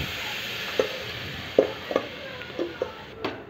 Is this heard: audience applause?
no